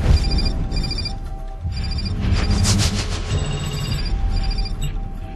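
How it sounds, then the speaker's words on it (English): Telephone ringing with a repeated electronic ringtone, bursts of tonal chirps in a regular pattern, loud and close, over a low background rumble, no speech. "Dr. Graham, your phone's ringing."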